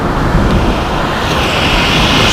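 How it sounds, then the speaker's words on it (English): Fierce storm surf and breaking waves at Sandgate Beach during Storm Arwen, a loud continuous broadband roar with gusting wind buffeting throughout and no voices. "Some of these waves coming in are quite fierce"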